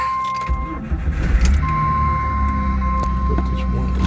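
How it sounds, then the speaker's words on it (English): A Jeep WJ engine cranks after a few clicks, catches and settles into a steady, close idle, with a constant tone ringing under the engine noise. "I'm gonna start her up, see what it does."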